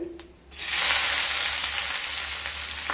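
Chopped medium-sized garlic hits hot oil in a pan, bursting into a loud, close, continuous sizzle after a brief quiet moment, holding steady to the end.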